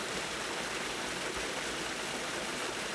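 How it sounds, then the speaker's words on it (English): A stream rushes through a culvert under a road on an off-grid property, giving a constant, dense broadband wash of flowing water, steady and fairly loud with no voices. "It's already got a whole stream flowing under the road's over there."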